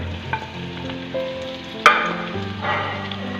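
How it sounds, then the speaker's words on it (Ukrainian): Mushrooms frying in butter, sizzling and crackling in a hot pan, with a few stirring scrapes and a sharp clink, close and steady. "Смажені гриби перекладаємо в сотейник"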